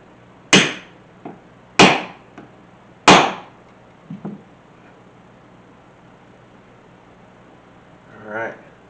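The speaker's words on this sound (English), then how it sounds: "so I can keep it straight as I'm hitting that rivet" A hammer strikes a rivet to set it through a leather strap: three sharp, loud blows at even intervals, with a couple of lighter taps and a faint murmur of voice in between.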